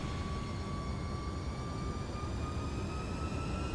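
MD-11 jet engines spool up to takeoff thrust in a flight simulator, a loud, steady cabin roar with whining tones that climb slowly in pitch.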